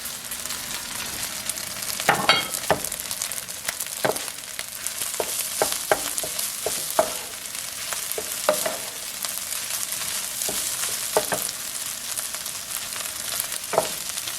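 Bacon fried rice with fried garlic sizzles steadily in a pan, with scraping and clacking strokes of a spatula stirring at irregular intervals, close up and without talk.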